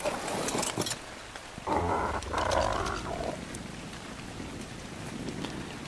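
Steady rain falls across a dark night on The Island in Ark Survival Evolved, a continuous wash of drops with a deeper rumbling swell in the middle, heard alone with no talking.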